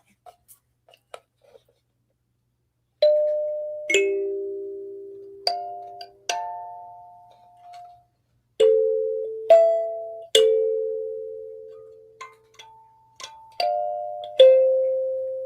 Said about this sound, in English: I should play the kalimba. I have it right here.